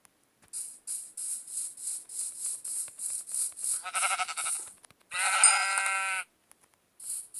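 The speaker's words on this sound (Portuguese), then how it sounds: "Só mais uma ovelha." Sheep bleating in a survival video game: a run of rapid, high repeated bleats and game sounds, with two longer bleats in the middle, loud and alone without talk.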